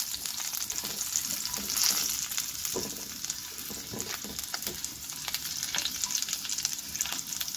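Chopped garlic and ginger sizzle in a little oil while being stirred, a close, continuous crackle with intermittent scraping of a spoon, no one speaking.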